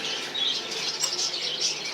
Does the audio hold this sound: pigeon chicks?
yes